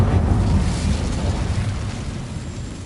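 Casting the Incendio fire spell in Hogwarts Legacy produces a dense whooshing roar of flames that swells loud at first and then slowly fades across a few seconds.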